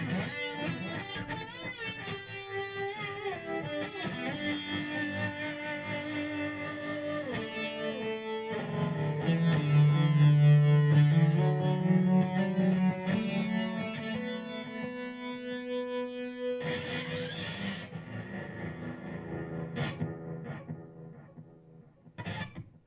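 Electric guitar run through Diamond effects pedals, sustained distorted chords and melodic lines with chorus shimmer, loud and continuous with a swelling middle section and a fading end.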